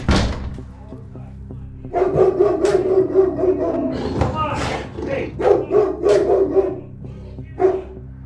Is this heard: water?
no